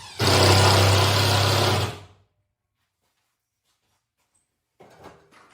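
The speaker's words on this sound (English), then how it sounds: "We're just going to go ahead and put a couple more screws in" A power drill drives screws into drywall sheets held on a wall: one loud, steady motor whine for about two seconds, then a stop and near silence, with faint handling noise at the end.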